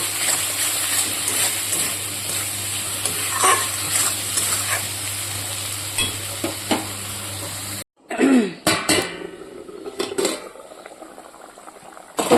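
Fried potatoes simmer and bubble with tomato in a pan in a village kitchen, a soft continuous frying hiss with occasional stirring taps, cutting off abruptly partway through before faint clattering and handling noises return.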